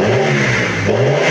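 Car engine revving steadily after its idle speed has been adjusted, a loud, close, continuous drone with a slight rise and fall in pitch and no talking.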